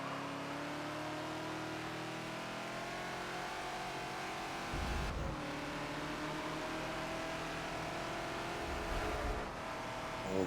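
Race cars in the Forza racing game, a Ford Falcon XB and a Ferrari 250 LM at Maple Valley, engines droning and revving continuously with shifting pitch as gears change, loud and close throughout.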